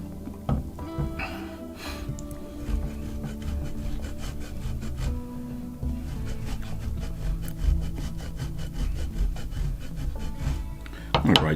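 A chunk of two-and-a-half-year-old Pecorino Romano is rubbed across a grater in quick rasping strokes, soft and close, with faint rustles between passes.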